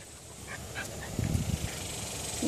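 Puppies whimpering and yipping while playing close by, soft whines and small thumps in a short scuffle, fairly faint with a quiet background.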